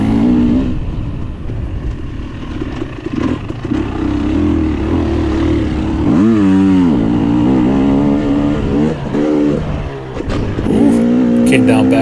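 A 2022 KTM 300 XC-W two-stroke dirt bike races in a six-hour Ironman charity event, its engine droning loudly close up, revving and rising in pitch through a turn, with a rider's voice heard over it.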